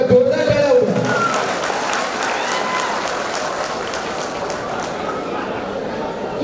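Audience at a clothing shop's prize draw clapping loudly together, a dense sustained burst of applause close by with a brief voice at the start, fading slightly but continuing to the end.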